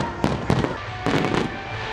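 Fireworks bursting at a night festival show with drones and lasers, several sharp crackling explosions in quick succession over a background hiss, loud and close.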